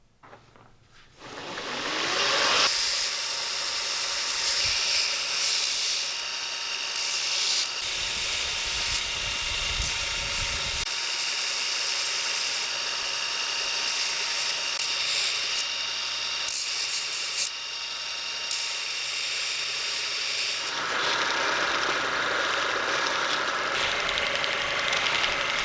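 A loud, continuous grinding whine of a power sander or belt grinder against a steel hammer, shifting in pitch as pressure changes, working through grits from 60 to Scotch-Brite.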